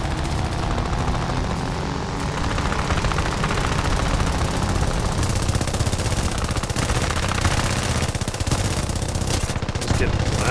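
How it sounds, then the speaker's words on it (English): A BF2C-1 biplane fires its machine guns in War Thunder, long loud bursts of rapid shots over a constant engine drone. "Couple small shots on the BA-65."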